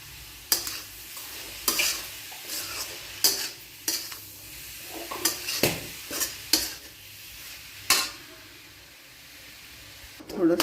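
Vegetable filling for momos, seasoned with black chili powder and salt, stirred and turned in a pan with a spatula, giving repeated scraping clatters and a low sizzle, with short pauses between strokes.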